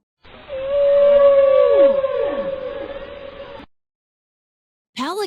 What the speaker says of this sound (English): Whale.